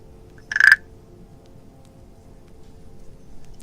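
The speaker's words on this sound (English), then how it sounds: "Goodness, that's a big frog." A large frog gives a single short, loud croak close by, set against a soft steady hum and otherwise quiet surroundings.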